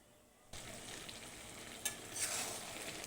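Spices sautéing in a pan with boiled potato, peas and carrots: after a quiet start, a loud, steady sizzle begins and goes on without pause, with a scrape of stirring partway through.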